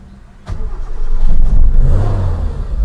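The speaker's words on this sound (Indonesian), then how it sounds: "Kita start engine-nya aja" A 2001 Suzuki Katana 1.0 GX with a manual gearbox cranks and fires, and its engine settles into a close, loud, steady idle with a low rumble.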